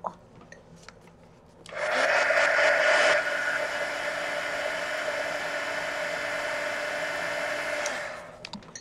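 A loud, steady electric blower of a heat tool drying paint whirs on abruptly after a quiet moment, holds a constant whine for several seconds, then cuts off.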